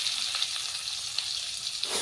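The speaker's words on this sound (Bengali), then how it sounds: "পেঁয়াজটাকে আমরা সামান্য একটু নেড়েচেড়ে নেব" Chopped onion sizzles steadily in hot oil with cumin as it is stirred for a potato and kakrol curry, a close, even frying hiss with a few faint scrapes, no voices.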